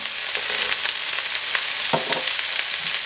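Ginger cut in thick chunks and cashews sautéing in a pan over high flame for a paneer angara masala, a steady close hiss of frying with a few brief stirring clatters and no voices.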